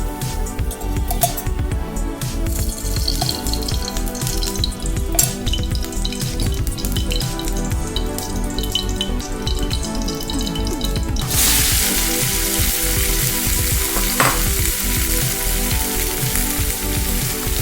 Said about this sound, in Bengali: কড়াইয়ে দু চামচ তেল দিয়ে দিচ্ছি তারপর আলুগুলোকে ছাড়ছি